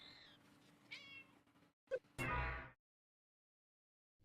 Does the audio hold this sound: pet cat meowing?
yes